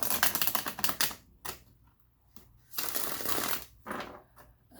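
Tarot cards drawn and laid out for a three-card spread, heard as soft close shuffling and slapping bursts in several separate runs with brief quiet gaps between them, fairly faint, with no talking.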